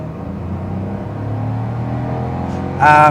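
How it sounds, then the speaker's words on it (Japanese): A Honda S660 three-cylinder mid-engine sports car with a six-speed manual revs up under acceleration on a mountain road, its pitch climbing steadily, with a sharper roar bursting in at the very end. "ちょっとアクセル踏んでみましょうかね"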